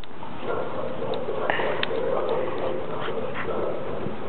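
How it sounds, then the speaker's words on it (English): Puppies scuffle and patter nearby, with small whimpers and yips over a muffled, noisy background. "I'm being jumped on by the puppies."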